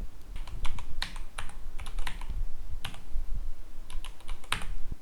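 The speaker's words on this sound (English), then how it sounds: "first type the IP address and then the domain name in the host field" Someone types an IP address and then a domain name on a computer keyboard: close, sharp key taps in irregular bursts with short pauses, fairly loud, no speech.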